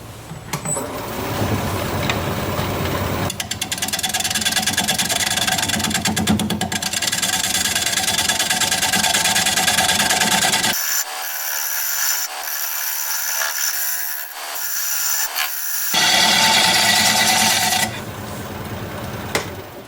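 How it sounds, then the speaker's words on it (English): A maple bowl turns on a wood lathe at 565 RPM as a freshly sharpened 5/8 inch bowl gouge shears wood, making a loud, continuous scraping whir with brief lulls and resumptions, close up and without speech. "We're going to be turning at 565 RPM. Freshly sharpened 5/8 inch bowl gouge"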